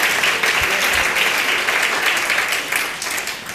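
Steady applause from an audience at a talk, dense and continuous clapping at moderate loudness that fades slightly toward the end, with no voices over it.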